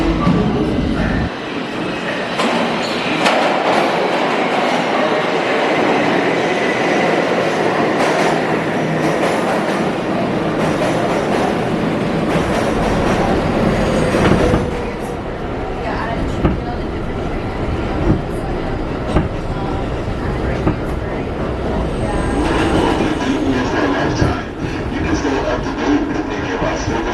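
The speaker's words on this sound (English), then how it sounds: "it's time to switch to the Lexington Avenue line, or the 4 or 5 trains" A New York subway train on the Lexington Avenue line, the 4 or 5, roars along with a loud, continuous rumble, rattling wheels and occasional metallic screeches from close by, with no one speaking.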